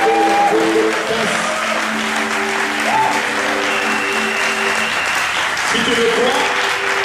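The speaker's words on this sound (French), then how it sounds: "alors tu fais une standing ovation pour le roi des rois" A church congregation gives a standing ovation, steady loud applause filling the whole stretch as a crowd claps together, with a preacher's voice speaking over it.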